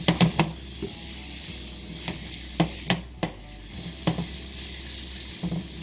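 Ginger and garlic sizzle in a hot pan with a steady crackle, broken by several sharp scraping stirs of a utensil against the pan.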